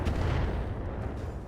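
Rocket strikes slamming into a mech in the RogueTech battle game, heard as a dense, loud, continuous rumble of blasts and booms with no distinct gaps and no talking.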